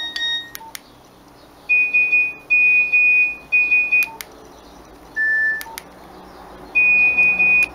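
A Nokia 1616 mobile phone plays short electronic alert tones: sharp clicks, then a series of steady pitched beeps in separate bursts of differing lengths, clear and close against a quiet background.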